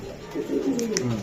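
A female racing pigeon from a 2023 club race coos softly in a few low, close warbling phrases, with faint background noise around it.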